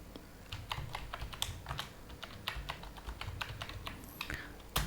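A file name typed on a computer keyboard: irregular, quick key clicks in short bursts, close and fairly quiet, with no talking.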